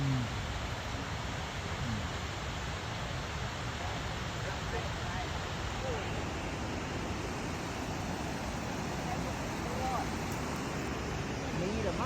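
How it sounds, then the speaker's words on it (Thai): Ban Gioc (Detian) waterfall on the China–Vietnam border, a dense, constant rushing roar of falling water, loud and close, with faint voices underneath. "อันนี้คือน้ำตกเตอเทียน"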